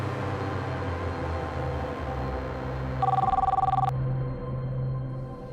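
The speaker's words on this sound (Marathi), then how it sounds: "मी साहेबांना फोन करतो" A telephone rings once in an indoor drama scene, a single pulsing electronic burst of about a second standing out over a low, steady background hum.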